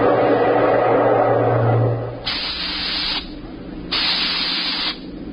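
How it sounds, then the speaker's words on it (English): In a science-fiction radio drama, two hard, hissing bursts of steam blast through the steering tubes of the spaceship Starfire, each about a second long, following a rushing, roaring swell of engine noise. "We could hear the desperate bursts of steam through the steering tubes as the Starfire maneuvered to dodge the enemy attacks"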